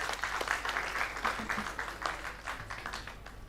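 A round of applause from a conference audience at an industry–academia conclave welcoming a speaker, moderately quiet and somewhat distant, with uneven bursts of clapping.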